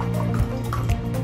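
Water is poured into a drinking glass at a meal, a near, steady liquid stream with a gurgling fill and no talk.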